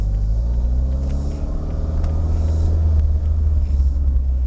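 A car in race mode with the sprint booster on accelerates hard, producing a loud, continuous engine rumble with rising harmonic tones throughout. No voices are heard.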